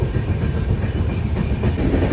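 A moving passenger train with cabins rolls along at speed, a steady loud rumble with dense low clatter from the wheels, continuous and close throughout.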